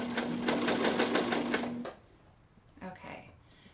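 A sewing machine stitches a kangaroo pocket onto a sweatshirt in a rapid, steady run of close stitching pulses that stops abruptly, followed by a quiet pause and faint handling sounds.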